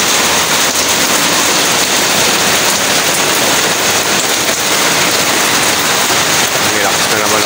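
Heavy rain pours down during a typhoon in a city street, a dense, steady hiss filling the whole stretch with no break.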